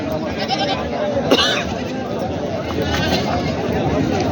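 Gavran and Honde goats bleat amid a busy Parbhani goat market crowd, with constant chatter and voices around them and one louder bleat standing out.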